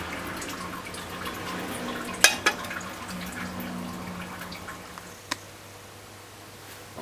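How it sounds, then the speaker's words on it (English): Water draining from a pot of cooked broad beans, heard as faint dribbling and trickling with a few sharp drips and clunks, soft and close. "I'm gonna drain this, drain the water"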